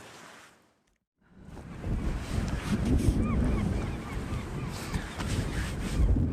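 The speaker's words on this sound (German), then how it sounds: "Hier ist jetzt wieder ein bisschen mehr Wind" Heavy wind buffets the microphone at a boatyard, a deep roaring rumble that swells after a brief lull and stays loud and gusty throughout.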